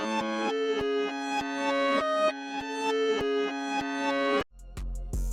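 Reversed piano melody, time-stretched and pitched up an octave in FL Studio for a dark Detroit-style beat: a steady run of swelling, backward-sounding notes with sharp cutoffs, ending in a brief low-heavy burst.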